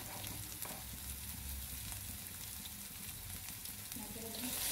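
Long beans are stir-fried in a wok with a soft, continuous sizzle and faint stirring, quiet and close, growing slightly louder at the end.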